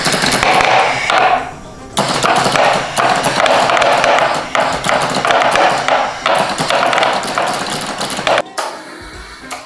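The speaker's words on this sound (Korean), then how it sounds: "리드 스위치는 연결될 때만 실린더가 튀어나가서 아주 바쁘게 움직이네요." A pneumatic air cylinder triggered by a reed switch in a homemade automatic drawer rig extends and retracts rapidly, giving dense, busy clacks and hisses that run nearly continuously, loud and close, with a short pause before the end.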